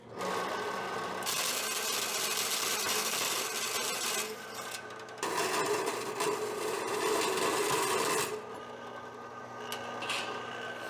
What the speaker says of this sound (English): I need to change that bandsaw blade. It's getting ridiculous. I think it's just rubbing the pieces, just rubbing them in half.